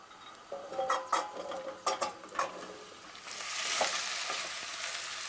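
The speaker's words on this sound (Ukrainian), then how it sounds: "Саме в каструлю я перекладаю наші овочі і смажу 2-3 хвилини" Vegetables sizzle and crackle in a hot pot, with scattered clatters of stirring early on and a steady frying hiss building toward the end.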